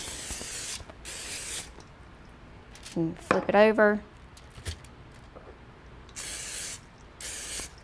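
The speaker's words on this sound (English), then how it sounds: "if you have spray olive oil, that works great too. So just spray them" Several short hissing bursts of an olive oil spray can, in pairs at the start and end, with a brief spoken phrase in the middle.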